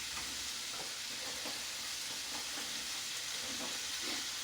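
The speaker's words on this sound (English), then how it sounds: "Salsa's reducing nice." Salsa reduces in a hot pan with a constant, dense sizzle and hiss, steady and close throughout with no voices.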